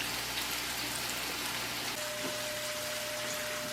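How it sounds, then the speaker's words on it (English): Onions sizzle in a hot pan of melted coconut oil, a faint, even hiss that holds steady with no one speaking. "my oil is melted and my pan is nice and hot, so I'm going to add my onions to that"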